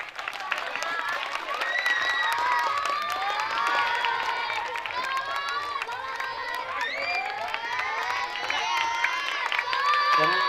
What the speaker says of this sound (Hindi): प्लीज तालियां बजाते रहे।